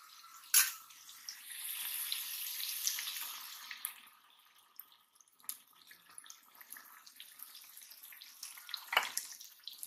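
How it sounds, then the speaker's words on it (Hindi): Tomato paste dropped into a pan of frying onions for soya chaap masala, giving a sudden sizzle followed by a soft, uneven hiss and scraping as it is stirred, fairly quiet. "अब हम इसके अंदर टमाटर डालेंगे"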